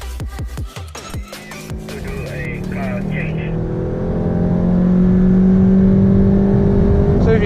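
A Volkswagen on the Sepang race track at night, engine droning and rising steadily as it accelerates, building in loudness after some brief clicks and knocks at the start, with the engine note climbing in pitch.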